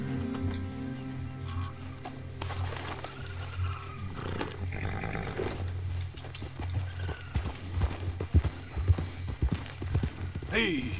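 Steady clip-clop of horse hooves at a walking pace in Red Dead Redemption 2, with background game ambience and occasional other noises throughout.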